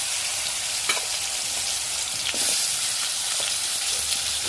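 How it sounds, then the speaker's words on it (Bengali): Vegetables fry in hot oil in a wok, giving a steady, close sizzle with faint stirring clatter and a few scraping knocks. "এগুলো ভেজে নিই।"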